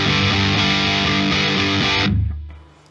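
Electric guitar through an Anasounds Ego Driver overdrive pedal in its bass-keeping top voicing: a loud, thick distorted chord sustains, then is muted to a low rumble that fades out, with no talk.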